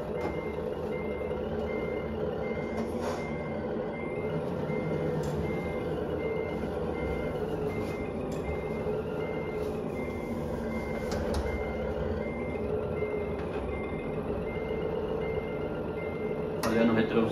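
Steady electronic reversing beeps from a Scania truck in a truck simulator game, a repeating tone pattern running under constant engine rumble with faint talk in the background.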